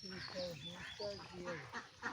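Several free-ranging ducks quack in short, overlapping bursts at close range, with a voice talking underneath.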